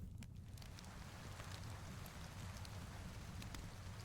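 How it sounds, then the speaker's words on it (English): Rain ambience in the video game Elden Ring plays steadily and faintly, turned low in the mix, with a soft continuous patter and scattered droplet ticks. "Okay, so I got to keep turning the rain down"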